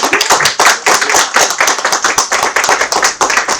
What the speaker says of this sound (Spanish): De nuevo les pido un aplauso para la autora.